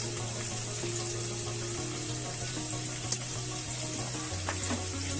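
Mustard oil poured into a pan for Bengali chicken kosha: a steady, soft liquid trickle with a faint sizzle over a low kitchen hum, broken once by a brief click midway.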